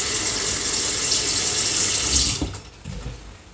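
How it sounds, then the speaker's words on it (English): Water runs from a tap into an Instant Pot over menudo meat, a steady bright rushing stream for about two seconds before the tap shuts off, leaving soft drips and clatter. "I don't want to add too much water this time"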